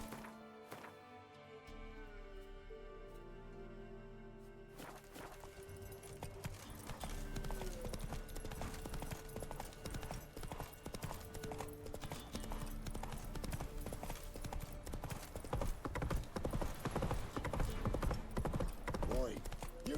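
Roach, a horse in The Witcher 3, clip-clops along in steady hoofbeats beneath layered game music and ambience, the sound growing busier and louder after the opening seconds with voices speaking over it.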